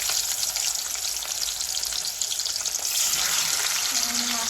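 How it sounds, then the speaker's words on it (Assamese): Fish rubbed with salt and turmeric fries in hot oil, giving a loud, steady close-up sizzle and crackle that holds without a break. "ইয়াতে মই এতিয়া মাছখিনি ভাজি ল'ম"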